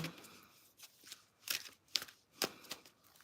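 Tarot cards are shuffled at close range in a few crisp riffling bursts separated by brief pauses, quiet and alone.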